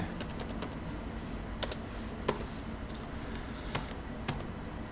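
Computer keyboard keys pressed for a shortcut, a few scattered sharp clicks over a faint steady background hum, close and quiet.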